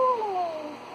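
A kitten in the Shenmue video game gives a single clear, high, drawn-out meow with a falling pitch, heard close and loud over a steady background hum.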